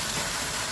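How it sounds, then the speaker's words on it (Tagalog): Water at a rolling boil in a cooking pot gives off a steady, close bubbling hiss with no talk over it. "kumukulo na po yung ating tubig"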